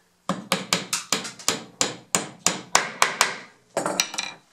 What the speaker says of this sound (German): Ich habe die Dübel jetzt auf eine Länge von 25 mm zugesägt und schlage sie jetzt hier durch das Eisen.